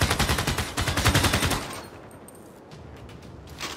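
Rapid automatic gunfire from military units in the strategy game Civilization VI rattles loud and close in a dense burst for about a second and a half, then dies away into a low rumble.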